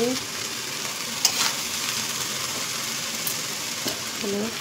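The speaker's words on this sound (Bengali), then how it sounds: "রাইসগুলো দিয়ে দিলাম, ভালো করে নাড়াচাড়া করে নামিয়ে দেবো।" Rice being stir-fried in a pan, for a home-cooked birthday meal, gives a steady close sizzle with scraping stirring strokes and a few sharper clinks, while faint voices murmur in the background.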